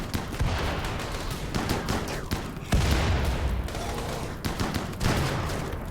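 Chain shotgun fire in a RimWorld-style colony battle video game, dense rapid bursts of loud overlapping shots rattling continuously with no talking.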